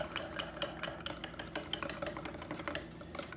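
Crab cake mixture is stirred in a bowl with a utensil, making quick, rhythmic scraping and clinking strokes, close and fairly quiet, with no voices.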